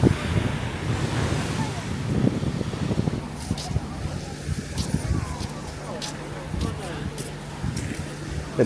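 Waves break and wash along the long beach coastline at Zelenogradsk, Russia, a continuous rushing surf mixed with heavy wind buffeting the microphone and some faint background voices.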